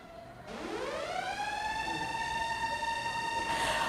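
A civil defense siren sounding during a mock drill winds up from a low tone to a steady, loud wail that holds, with rich harmonic overtones ringing out.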